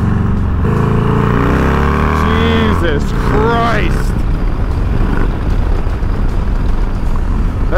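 A 124ci Harley-Davidson Dyna motorcycle engine pulls at about half throttle on a ride through turns, a loud steady rumble with one rising rev sweep partway through and constant wind noise.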